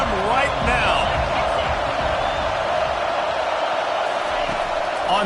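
Stadium crowd roar from College Football 25, a steady dense wash of cheering and noise filling the whole stretch, loud and continuous with occasional whoops rising out of the mass.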